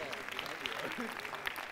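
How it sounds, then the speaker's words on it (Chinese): A stage audience applauds a group of colleagues at a closing event, a steady dense wash of clapping lasting under two seconds, with voices mixed in beneath it. "我哋俾多啲掌声呢一班嘅同事"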